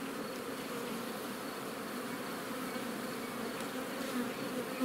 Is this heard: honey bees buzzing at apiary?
yes